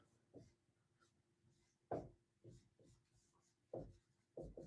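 A pen squeaks and scratches across a board during a linear algebra lecture, in a few short separate strokes with pauses between them, close and fairly quiet, in a room that is otherwise silent.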